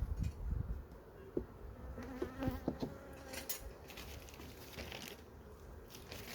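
Bees buzz steadily around a three-box beehive outdoors, a continuous insect drone with a few louder passes close by and occasional handling knocks, no talking.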